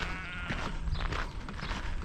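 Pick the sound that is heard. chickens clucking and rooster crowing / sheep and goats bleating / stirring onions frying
sheep and goats bleating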